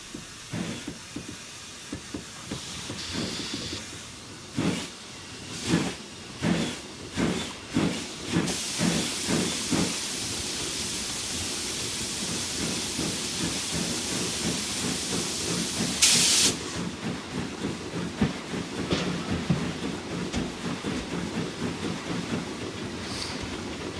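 Steam from an N.S179 Jinty tank locomotive in Train Simulator 2019, running near Bristol and Bath. Rhythmic chuffing bursts speed up into a sustained loud hiss, and a sharp steam blast comes midway.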